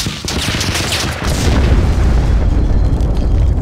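A heavy, booming shot from a sniper rifle in a video game, loud and close, followed by a rolling rumble that fills the rest of the moment with no talking.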